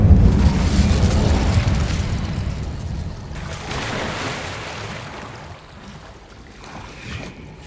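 Casting the Incendio fire spell in Hogwarts Legacy releases a heavy, rumbling whoosh of flame that starts loud and deep and gradually fades out over several seconds.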